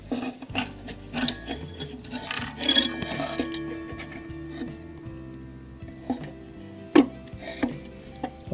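Handling sounds from removing the case of a Junghans W200 Westminster chime mantel clock during repair: scattered wooden rubs, scrapes and light knocks close by, with a louder clunk late on.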